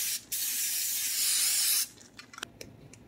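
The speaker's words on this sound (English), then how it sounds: "I'm going to spray the edges of my pan" Cooking spray hisses from a can onto the edges of an iron skillet in one steady burst of well over a second, followed by faint clicks and light handling sounds.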